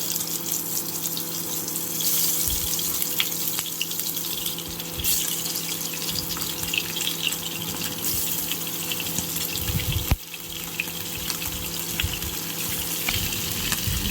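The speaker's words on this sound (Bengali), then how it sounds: "গরম তেলে আমি একে একে মাছগুলো ভেজে নেব" Fish pieces coated with turmeric and chili powder sizzle in hot oil in a pan, a steady close hiss and crackle with a few louder pops, and no voices over it.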